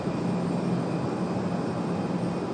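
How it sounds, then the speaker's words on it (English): Airbus A350 airliner of Air France heard at Raleigh Durham airport as a steady, broad engine roar with a faint whine, continuous and moderately loud throughout, no voices. "Air France bringing the A350 right now."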